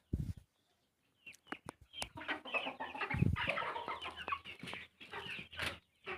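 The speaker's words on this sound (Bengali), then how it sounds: "এগুলো সবগুলোই দেশি মুরগি" Local desi chickens cluck and chatter nearby in short bursts and a busy run of calls, with a few sharp taps and scratches.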